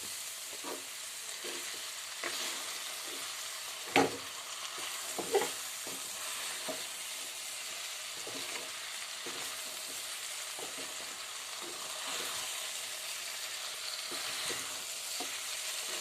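Soya chunks fry and sizzle in a pan with chili powder, a steady close sizzle broken by a few scraping stirs of a spoon, including two sharper knocks early on, with no one talking.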